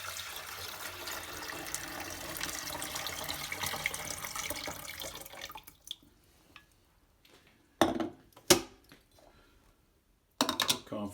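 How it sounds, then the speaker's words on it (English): Water pours steadily into the top reservoir of a GE Coffeematic II coffee maker for about five seconds, then stops, followed by a few sharp plastic clunks and knocks as parts are handled. "So the water goes in the top, just like you would expect."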